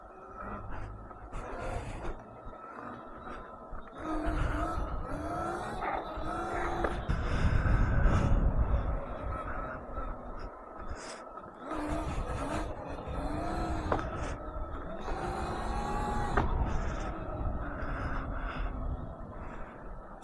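BombMoto B1 electric dirt bike, modded controller, popping a wheelie: a whining electric motor surges and fades in repeated bursts, with tire scrub, wind rush and heavy breathing close by.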